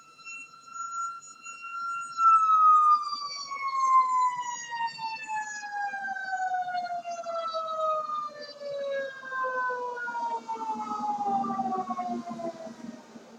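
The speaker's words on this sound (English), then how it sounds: "sorry for the sirens" A loud emergency siren wails and slowly drops in pitch as it passes, fading into a lower drone of traffic at the end.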